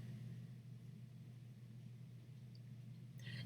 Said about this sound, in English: AC on right now, and it's just kind of probably a little white noise-ish.